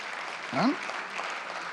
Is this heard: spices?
no